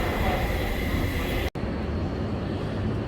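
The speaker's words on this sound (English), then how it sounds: "train is now arriving on the local track." A New York subway train arrives at a station, a loud, continuous rumble and roar of rail wagons on the local track that drops out abruptly for an instant midway before resuming.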